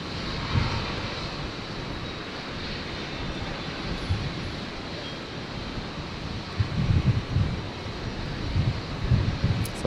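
An airliner takes off at Brisbane International Airport, a distant broad roar of jet engines with wind buffeting the microphone and low gusty thumps.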